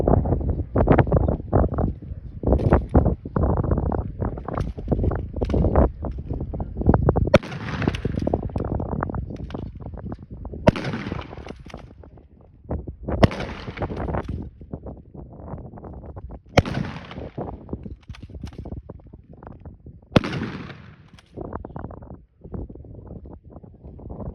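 Several WWII rifles, M1 Garand and M1 carbine among them, fired at an outdoor weapon demonstration during a WWII weekend at Fort Clinch, with about six sharp, loud reports spaced a few seconds apart over steady wind noise and crowd murmur.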